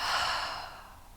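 A deep, sighing exhale pushed out through the mouth during a yoga breathing exercise, close and breathy, fading gradually over about a second with no talk.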